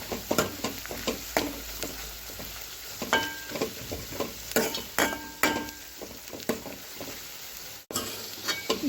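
A spoon scrapes and stirs onions and turmeric in a sizzling pan for poori masala, with irregular clinks and scraping strokes over a steady frying hiss.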